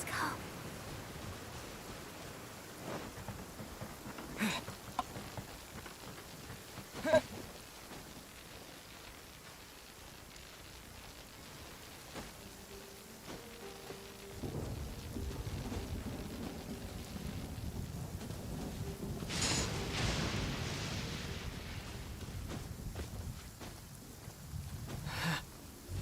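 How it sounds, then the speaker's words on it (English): Rain and thunder in Genshin Impact, with scattered sharp cracks early and a lightning strike later, heard as a swelling rumble and a bright crash over steady rainfall. "Oh, I got struck by lightning."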